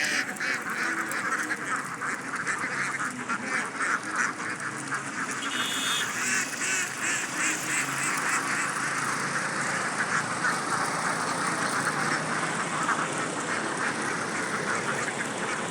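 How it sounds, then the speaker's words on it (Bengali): Many farm-raised ducks quacking continuously, a busy overlapping chorus at moderate distance with no talking. "আপনারা দেখতে পাচ্ছেন প্রিয় দর্শক অনেকগুলো হাঁস কিন্তু খুব সুন্দর"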